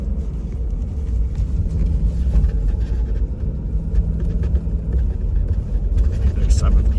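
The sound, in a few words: Ford F350 7.3 Godzilla engine climbing RPM towing on gravel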